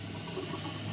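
Water runs in a soft, steady stream, a quiet continuous rush with no other sounds.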